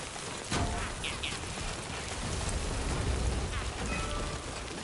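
Heavy rain pours down in the video game Death Stranding 2, a dense, loud hiss of drops on surfaces filling the whole scene, with brief faint electronic blips over the downpour.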